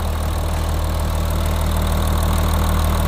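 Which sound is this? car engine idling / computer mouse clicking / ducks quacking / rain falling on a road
car engine idling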